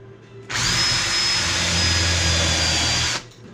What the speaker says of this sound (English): I'll use the cork drill.